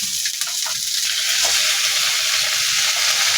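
Pork and chicken simmer in a pot for adobo sa atsuete, a loud, continuous bubbling hiss that holds steady throughout with no talk.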